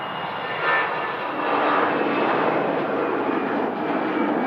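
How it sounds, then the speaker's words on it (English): A Lufthansa Airbus A319 jet departs Manchester Airport bound for Munich, its engines giving a broad, steady roar from a distance that swells slightly midway. "A319 heading back out to Munich."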